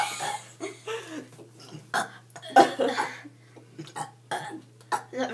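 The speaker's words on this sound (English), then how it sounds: "today we're gonna have a burping contest" Girls take turns burping in a home burping contest: a string of short, throaty burps and strained attempts, fairly quiet and spaced irregularly over a few seconds.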